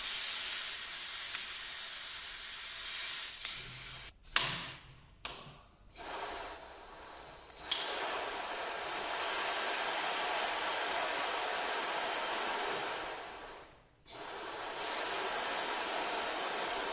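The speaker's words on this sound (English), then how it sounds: "Just need the air jet now into the side here, and we're good to go." Compressed air jet hissing into the side of a gear oil pump bottle to pressurise it, a steady loud blast with a few brief interruptions and a short cut-off near the end.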